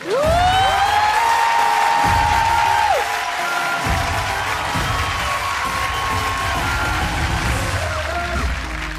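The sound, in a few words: applause on a TV game show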